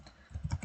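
Quick run of keystrokes on a computer keyboard, four or five close, soft clicks in a burst after a brief quiet start.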